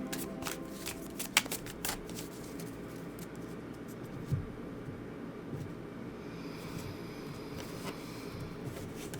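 A deck of tarot cards is shuffled by hand, giving repeated crisp riffling and soft flicking bursts with a few sharper snaps, close up and steady, with no talking.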